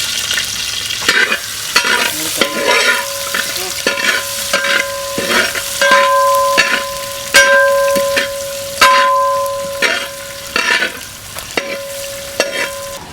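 Ginger and garlic sizzle in a pan for a village-style chicken varattiyathu, with loud repeated scraping strokes of a spatula stirring them and occasional metallic ringing from the pan.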